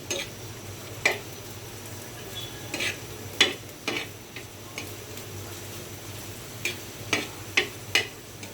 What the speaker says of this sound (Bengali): এখন আমি ভালোভাবে বাগারটার জন্য তেল, পেঁয়াজ, রসুনটা ভেজে নিব।